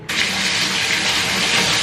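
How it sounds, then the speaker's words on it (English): Tap water pours steadily into a baby's bathtub, a close, continuous gushing splash that starts abruptly and holds level with no talking. "I've literally filled the bath with like an inch of water"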